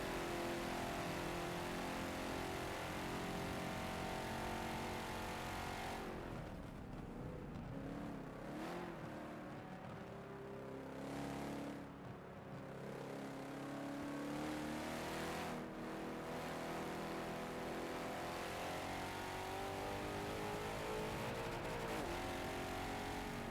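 Race car engines roaring around Circuit de Spa in a Forza racing game, loud steady revving with shifts and passing cars, continuous from start to finish without voices.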